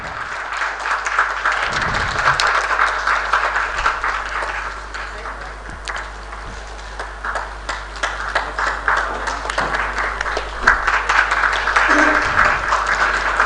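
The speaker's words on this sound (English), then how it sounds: "Ladies and gentlemen, a big round of applause." Applause from an audience at an international conference for a university vice chancellor, steady clapping with a few sharp claps and faint background talk.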